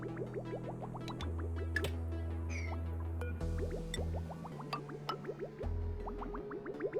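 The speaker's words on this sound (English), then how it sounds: "I'm just gonna dump water on it till it's cool enough for this thing to work." Dripping, squishy water-dumping effects from the video game Oxygen Not Included, with water poured onto hot machinery to cool it; repeated quiet liquid blips and drips play over a soft, looping in-game backdrop.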